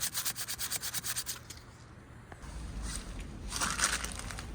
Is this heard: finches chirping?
no